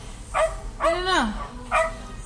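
A King Charles spaniel barks three times in short, bright yelps, with a longer whining bark in the middle. The barks are close and clear against a quiet background.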